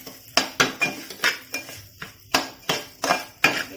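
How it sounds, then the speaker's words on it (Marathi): Semolina being dry-roasted in a pan for lapsi, stirred with a spoon that scrapes the metal in a steady rhythm of about ten sharp, close strokes with no talking. "आता हिला आपण चांगली खरपूस भाजून घेऊया।"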